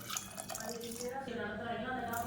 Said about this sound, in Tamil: நல்லா ஒரு 2 டம்ளர் அளவுக்கு தண்ணி சேர்த்துக்கலாம்.